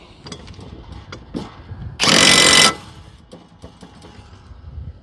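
A power tool tightens the blade nuts on a John Deere X series riding mower, a single loud, harsh burst lasting under a second against quieter clinks and handling noise.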